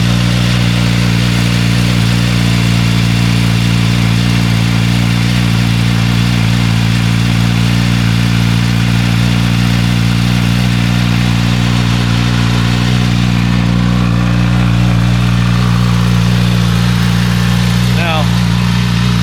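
A motorcycle with its stock exhaust idles steadily nearby for a long stretch, a low, even rumble with a faint change in tone near the end.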